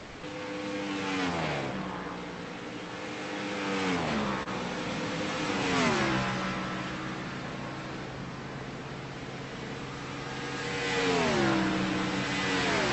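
Race car engines in the iRacing sim, revving up and down in repeated waves of rising and falling pitch, loud and continuous with no talk.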